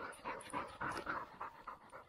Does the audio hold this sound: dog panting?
yes